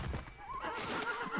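A horse in the Ghost of Tsushima video game gives a clear, rising whinny, with hoof clip-clops and game ambience under it, moderately loud and close.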